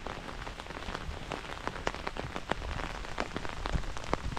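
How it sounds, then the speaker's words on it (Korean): Heavy rain suddenly pours down on a field path, a dense steady hiss with scattered sharp drop impacts close by, no voices. "아, 갑자기 또 비가 막 쏟아지고 있어요."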